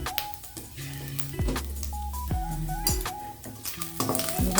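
Ladle scraping and clinking against a pot while oil is skimmed off the surface of a soup, with repeated metallic taps and knocks, close and fairly loud, and no talking.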